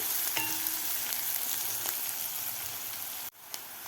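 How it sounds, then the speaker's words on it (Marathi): Chopped onion sizzles steadily in hot oil with asafoetida as it is sautéed, a close, continuous frying hiss with light stirring clinks, briefly cut off near the end before resuming. "आता यामध्ये घालायचं आपल्याला हिंग, व्यवस्थित कांदा आपल्याला परतायचा आहे"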